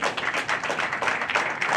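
An audience in a hall claps steadily for a speaker presenting the Likouala department of the Republic of Congo, a short dense burst of clapping heard alone.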